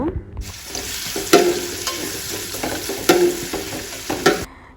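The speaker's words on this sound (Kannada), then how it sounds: "ಎಣ್ಣೆ ಬಿಸಿ ಆದ ನಂತರ ನಾವು ಕಟ್ ಮಾಡಿಟ್ಟಂಥ ಈರುಳ್ಳಿಯನ್ನು ಕೊಡೋಣ" Chopped onions hit hot coconut oil in a pan, giving a loud, steady sizzle with scraping stirs and sharp crackling bursts throughout, ending abruptly, with no talk.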